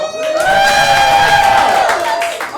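Theater crowd at a live improv show cheers and whoops loudly, a sustained burst of shouting voices lasting a couple of seconds before fading.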